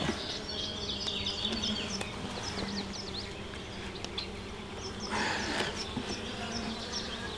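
Honey bees drone around an open beehive in a steady, dense buzz that holds throughout, with individual bees passing close by and swelling louder now and then against the constant hum of the colony.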